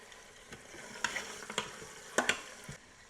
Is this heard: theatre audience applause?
no